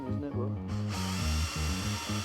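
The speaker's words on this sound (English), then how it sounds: "You've got to drill through your roof at some point" A power drill bores through a Volkswagen Transporter van roof in steady pulsing whirs that rise and fall, loud and close, with a voice speaking over it.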